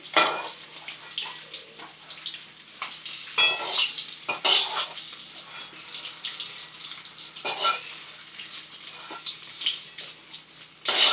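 Eggs frying in a wok, irregular crackling and sizzling bursts rising and falling, close by with no voices.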